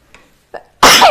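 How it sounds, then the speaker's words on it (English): A couple of small sharp inhales build up, then a loud, close sneeze bursts out. "I'm about to sneeze"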